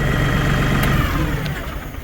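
A New Holland Workmaster compact tractor engine runs close and loud, a steady low diesel drone that holds even and eases slightly near the end.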